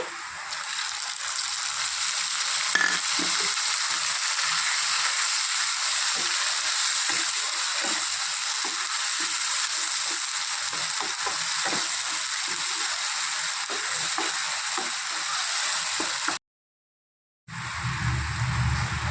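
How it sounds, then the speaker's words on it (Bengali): A ground paste of green chilli, ginger, garlic and onion frying in hot oil with the fried onion for a pomfret curry, a steady loud hiss and sizzle that continues without a break until a brief cut near the end. "এখন বেটে রাখা কাঁচা লঙ্কা, আদা, রসুন, পেঁয়াজ সব দিয়ে দিচ্ছি।"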